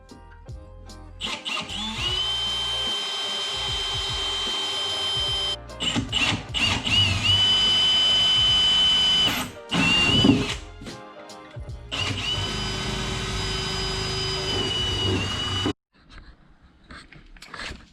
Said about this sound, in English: So, drill this through.